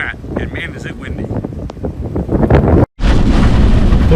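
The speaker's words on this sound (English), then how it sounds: "man is it windy" Strong wind buffets the microphone in heavy, rumbling gusts in a small Colorado town, with a person talking underneath; the roar cuts out briefly, then returns.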